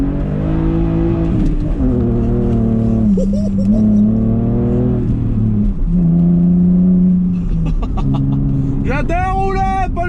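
A car with home-made competition brakes pulls away gently from a full stop, its engine held below 4000 rpm, a steady low engine hum rising in pitch with each gear while someone talks over it throughout.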